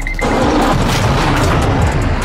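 Missile striking and destroying an aircraft in Warzone 2.0, a loud, dense blast roar sustained with rumble, close and alone without talk.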